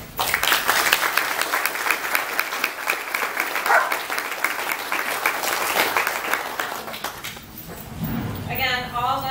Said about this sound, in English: I want to just give him a round of applause because he's been amazing